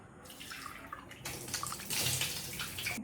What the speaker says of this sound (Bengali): চলো মুখটা ধুয়ে নিই আমরা।